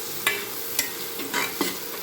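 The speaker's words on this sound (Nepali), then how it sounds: "अब यो बोडीलाई हालेर यसलाई एकछिन भुट्ने, मजाले भुट्ने।" Black-eyed beans (bodi) frying in a pan for a Nepali taro root curry, a steady sizzle broken by four sharp scraping strokes of stirring at close range.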